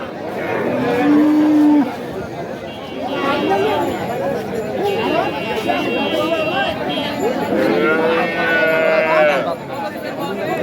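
Cows moo a couple of times, one low call near the start and another later, amid a busy crowd of people chattering at a cattle market in Munshiganj or Dhaka.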